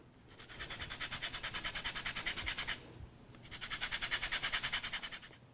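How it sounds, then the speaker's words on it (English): One lemon rubbed across a zester in quick, rhythmic rasping strokes, two bursts of soft close scraping separated by a short pause, faint overall. "now I'm gonna zest 1 lemon"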